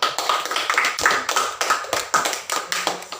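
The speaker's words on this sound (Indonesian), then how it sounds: "Tepuk tangan." A small group of students clap hands together in a classroom group-counselling session, a run of quick, uneven claps at moderate distance with no talking.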